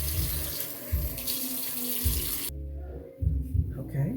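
Shower water runs steadily while long locs are soaked from root to tip, a continuous close splashing with thumping water hits that briefly thins and then resumes.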